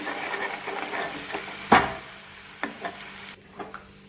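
Ginger and coriander paste hits a hot pan and is stirred, giving a sharp sizzle and scraping stir sounds, with a few clinks afterward, near and alone.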